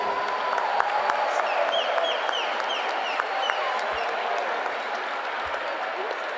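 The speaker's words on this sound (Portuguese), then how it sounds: "Dá uma salva de palmas para eles" A large audience applauds young people at a religious gathering, a dense continuous wash of clapping with faint cheering voices mixed in, steady and sustained throughout.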